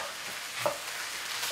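Spanish fried rice with tomato sauce stirred in a pan, a soft steady sizzle with a single spoon scrape and clink near the middle, close and fairly quiet with no talk.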